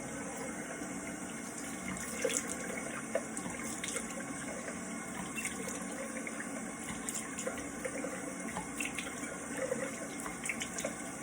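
Tap water runs continuously into a bathroom sink while the face is rinsed, a steady close gush with small splashes throughout and no speech.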